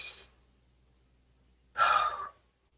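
One deep, breathy inhale-exhale from a person, close and clear, after a brief tail of breath and a short silence.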